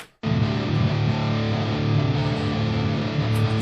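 Heavily distorted electric guitar re-amped through an EVH-type 5150 amp head bursts in after a brief silence and sustains a dense, loud, saturated chord wall for a few seconds, no talk.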